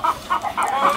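A hen clucks in a few short, bright bursts, close by and fairly loud, with brief pauses between the calls.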